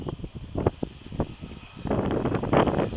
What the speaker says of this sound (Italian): vento sempre teso nei quadranti orientali